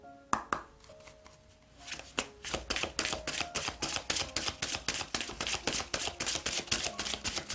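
Tarot cards shuffled by hand, a rapid, regular run of crisp riffling snaps and slaps close up, building into a steady rhythmic patter, with no talking.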